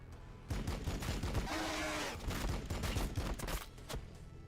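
Rapid gunfire bursts from a Warhammer 40k: Battlesector battle, dense volleys of shots crackling in close succession with a brief sustained roar in the middle, loud and continuous throughout.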